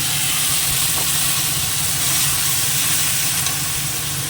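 Poppy seed paste sizzles with pointed gourd in a hot pan, giving a steady, even hiss that runs unbroken and fairly loud throughout.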